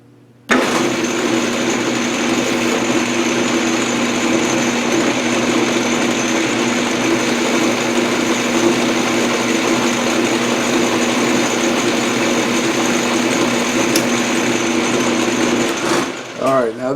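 A metal lathe makes a steady, continuous cut on a gear cutter arbor, with an even motor whine and a tonal machining hum held at constant loudness for about fifteen seconds, then stopping near the end.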